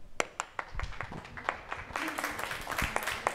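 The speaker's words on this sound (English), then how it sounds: "So everyone give her a round of applause." Scattered audience applause at a space entrepreneurship panel, starting as sparse distinct claps and thickening into a fuller but still modest round, fairly quiet in the room.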